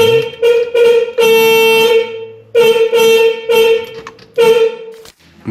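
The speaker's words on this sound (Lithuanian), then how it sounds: "Dabar priėjom prie signalo, kuris arba veikia pastoviai," Horn of an old ZAZ car under electrical repair, honked close up in a series of bursts, some short taps and some held for over a second, with brief gaps between.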